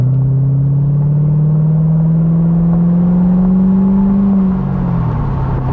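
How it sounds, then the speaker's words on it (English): A C6 Corvette Grand Sport convertible with stock exhaust accelerating, a loud, steady engine drone rising smoothly in pitch for several seconds before easing off near the end, with no talk. "the sound on this car is really nice. I believe that this is a stock exhaust"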